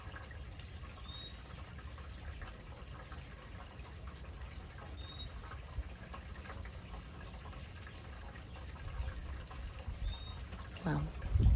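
Small birds chirp faintly outdoors, a short twittering phrase returning roughly every four seconds over quiet, steady background noise.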